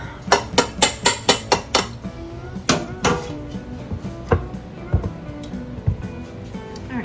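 Cooked quinoa drained and tipped back into the same metal pot, a quick run of sharp clattering knocks and scrapes followed by a few scattered clinks, fairly close.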